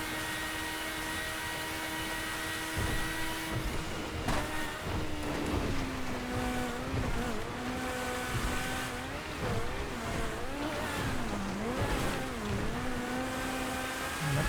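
Race cars in a GTA FiveM online race, engines droning and revving steadily with pitch rising and falling through gear changes, continuous and fairly close throughout.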